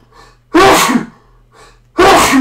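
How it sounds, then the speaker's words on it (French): One person sneezes twice in close succession, each sharp burst preceded by a quick indrawn breath, loud and near in a quiet room. "je vais éternuer"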